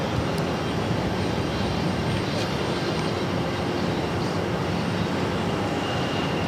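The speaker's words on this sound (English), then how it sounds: "JetBlue Airbus A220-300" A JetBlue Airbus A220-300 fills the air with a loud, unbroken jet roar, broad and rumbling, holding constant for several seconds with no voices.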